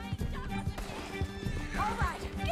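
Horse hooves pound in a fast, steady gallop in the video game Red Dead Redemption 2, with a whinny rising near the end, all up close and fairly loud.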